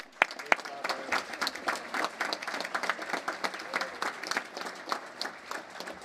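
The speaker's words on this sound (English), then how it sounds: "Give them a round of applause." An audience claps for a military band at a ship christening ceremony for the USNS Robert E. Simanek (ESB-7), a lively, sustained round of applause with sharp individual claps standing out up close.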